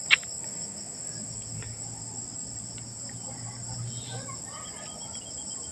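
Crickets chirp steadily through a quiet night in the rural Philippine countryside, a thin continuous high chirring that stays faint and even throughout, with one brief click at the start.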